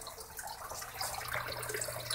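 Water pumped at high pressure splashes and gurgles into an aquaponic fish tank, a steady close churning flow that stirs and aerates the water, slightly louder in the second half.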